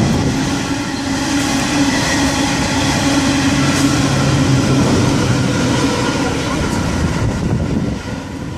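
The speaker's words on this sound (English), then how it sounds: "A trailing locomotive is coming up." A train with a trailing locomotive rolls through Beresfield station, a loud continuous rumble and rattle of passing wagons close by, with faint wheel clatter throughout.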